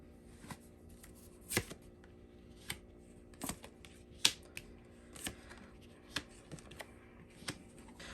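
Tarot cards are shuffled and drawn by hand close up, with sharp crisp snaps and riffles spaced irregularly over a quiet background.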